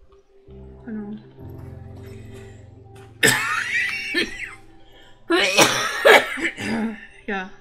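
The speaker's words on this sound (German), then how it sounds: "So ist mein Husten" Two bursts of harsh coughing, close to the microphone, separated by a quiet stretch with a low steady hum underneath.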